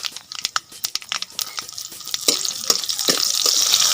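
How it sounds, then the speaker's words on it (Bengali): Water poured into a hot pan holding dried and green chillies while cooking a Bengali fish dish: scattered crackles and taps first, then a rising, sustained hiss of water hitting hot oil, close and fairly loud. "এখন দিয়ে দিচ্ছি এর ভিতরে জল।"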